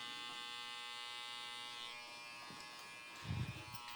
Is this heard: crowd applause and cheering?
no